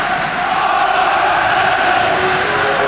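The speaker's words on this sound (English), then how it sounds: "But up come the chants from the crowd again." Football crowd chanting in a packed stadium at a Northern Ireland versus Austria Euro 1996 qualifier, a steady, dense roar of massed voices rolling on without a break.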